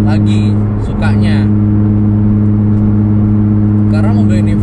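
A Nissan GT-R R35 with an Aimgain kit and wide wheels drives along with a loud, steady engine drone inside the cabin, while a person talks over it throughout.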